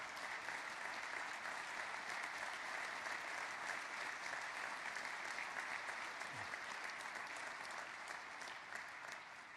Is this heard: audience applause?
yes